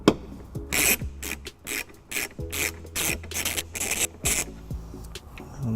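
A 10mm socket ratchet turns out the taillight bolts on a 2018 Dodge Grand Caravan, giving several close bursts of quick clicking with short pauses between them and no talk.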